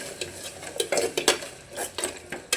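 Salt stirred into upma in a pan, with repeated scraping and clinking of a metal spoon against the pan in an uneven rhythm over a soft sizzle, close and without talk.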